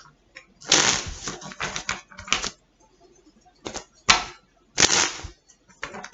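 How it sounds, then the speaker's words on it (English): Tarot cards are shuffled close by in quick riffling bursts, several rounds separated by short pauses. "Apparently I'm not done shuffling."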